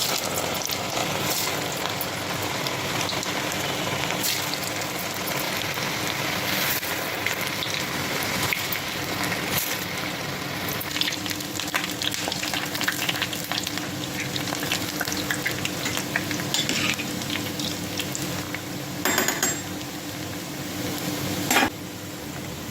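Green gram fritters (pesara garelu) fry in hot oil over medium flame, a dense, continuous crackling sizzle with scattered sharper pops, close and steady throughout with no talk.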